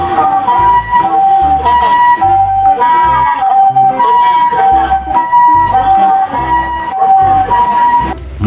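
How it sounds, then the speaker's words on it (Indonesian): A toy ambulance plays a loud electronic siren, a repeating two-tone melody cycling steadily up close with a thumping beat underneath and no gaps. "ini mobil ambulan."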